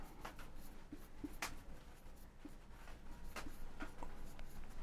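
A pen writes by hand on paper while working an accounting exercise, giving faint, close, scratchy strokes in short irregular bursts with no speech.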